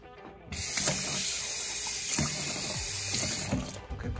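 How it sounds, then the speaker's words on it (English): Water running from a tap into a cement-like slime mixture, a steady close hiss lasting several seconds before cutting off, with faint voices in the background. "Okay, put some more water."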